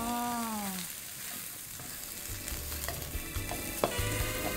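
Scallions stir-fried in a wok, a steady frying hiss with occasional scrapes and clinks of the spatula against the pan. There is no talking.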